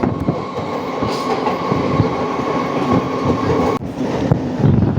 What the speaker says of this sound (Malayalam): അടുത്ത സ്റ്റേഷനിലേക്ക് ട്രെയിൻ കയറിയിരിക്കുവാണ്.